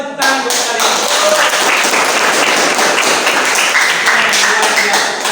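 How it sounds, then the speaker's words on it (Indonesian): A classroom of students applauds their presenting groups, dense steady clapping filling the room for several seconds, with some voices mixed in. "Kasih tepuk tangan buat kalian."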